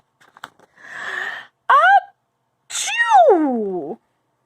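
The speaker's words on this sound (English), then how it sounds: "Achoo!" A sharp inhale builds into a voiced sneeze, followed by a drawn-out, wavering vocal cry, close and loud.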